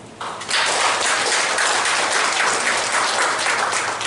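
Audience clapping at a clan association's general meeting, a dense burst of applause that starts abruptly and carries on steadily for several seconds.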